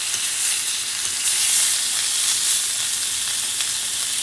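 A steak sizzles steadily and loudly in a hot pan just after being flipped, a dense continuous frying hiss with no voices.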